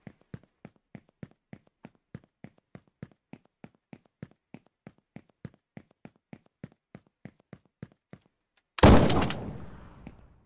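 A long run of evenly spaced, sharp video game gunshots fires in steady rhythm in an Unreal Engine 5 game, followed by a loud, booming blast that rumbles and fades.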